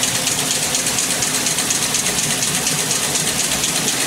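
A pump driving a generator wheel runs with a loud, steady mechanical hum and fine rattle, unchanging throughout.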